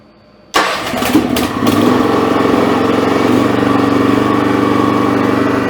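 A Honda hydrostatic snow blower engine starting after a quiet moment, catching with a sudden loud burst and a couple of sputters, then settling into a steady, close, mid-pitched running rumble as it drives up a ramp.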